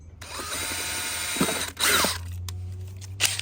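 A cordless power drill boring small pilot holes, a steady whirring run with a few brief bursts and pauses, close and clear, with a low hum underneath and no talking.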